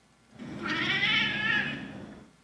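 A domestic cat gives a tweedle, a low-pitched, noisy meow with a shaky, wavering quality, lasting about two seconds, close and alone.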